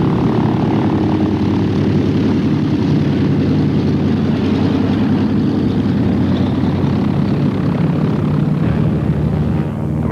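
Propeller airliner departing Chicago Midway Airport in 1951, its engines making a loud, sustained roar and throb that carries on steadily with no talk over it.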